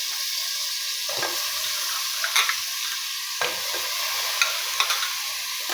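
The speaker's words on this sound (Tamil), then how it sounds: "இதை நல்லா அலசிட்டு காய்கறியை இதில் உள்ள சேர்த்துக்கோங்க" Cauliflower, beans and carrots being stirred into a frying pot for veg biryani, with a steady sizzle and a few soft scraping stirs and clinks, no talking.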